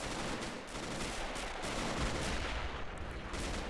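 Machine gun mounted on a German half-track rattling off continuous bursts in a WWII infantry battle game, dense gunfire and explosions filling the scene steadily without pause.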